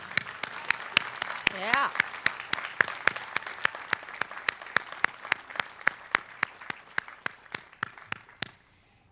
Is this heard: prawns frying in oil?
no